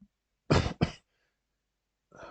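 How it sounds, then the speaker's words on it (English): A man coughs twice in quick succession, close and fairly loud, then after a short pause a soft throat-clearing or breathy sound follows. "I've got a bit of a tickly cough this evening"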